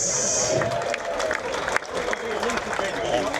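An audience claps and cheers at a festival Q&A, a brief burst of mixed applause and crowd noise under a loud voice calling out.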